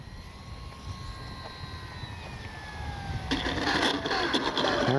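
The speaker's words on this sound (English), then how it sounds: "Stay on my rudder for this landing." FMS Cessna 182 RC plane coming in to land on a windy day, a thin electric motor whine with shifting pitch, under wind noise, growing louder and harsher near the end.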